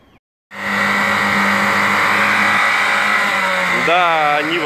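A Lada Niva's engine revs hard and steadily while trying to climb a steep snowy hill in winter, loud and close, with the pitch rising and wavering near the end.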